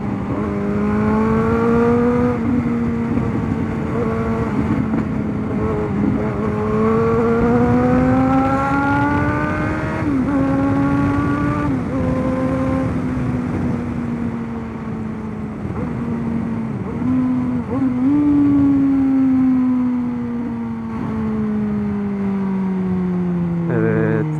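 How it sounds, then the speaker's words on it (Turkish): A motorcycle engine drones steadily while riding through city streets, its pitch rising and falling as the rider shifts gears and changes speed, with wind noise throughout. "konuşmuyorum şu anda motorun sesini dinleyin diye."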